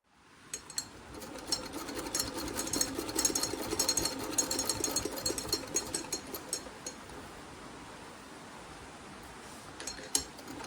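A sewing machine stitches quilt pieces in an off-grid setting, starting with a few clicks, then a busy rattling run of needle strokes that fades to sparse taps and a final click.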